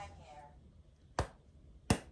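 Two sharp hand claps, about 0.7 seconds apart, ring out in a quiet room after a voice stops, each a crisp isolated smack.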